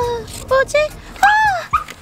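A puppy whimpering inside a cardboard box, making a few short, high whines followed by a longer rising-and-falling whimper, close and loud.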